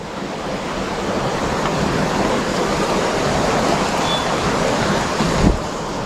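Steady roar of sea waves washing in at Malvan, broad and continuous, with wind rushing over the water and no one speaking.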